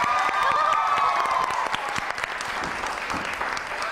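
A studio audience at a television show applauds for Shaista, a thick wash of clapping with some cheering that holds steady and tapers slightly.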